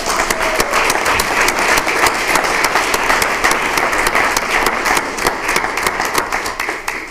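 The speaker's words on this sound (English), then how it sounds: "Let's give them a great big round of applause." Loud, dense applause from the audience at a school board of education meeting honoring students, a sustained roar of many hands clapping close by for several seconds and tapering slightly at the end.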